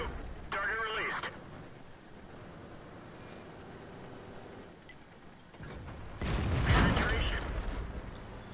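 A Type 4 Chi-To tank cannon fires in World of Tanks with a heavy boom that rolls into a rumbling tail late on, after an earlier shorter blast and stretches of game voice and engine hum.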